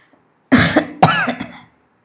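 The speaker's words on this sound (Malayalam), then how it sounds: "ചുമയും പിടിച്ചു" Two sharp coughs, close and loud, one after the other with a short gap, followed by quiet.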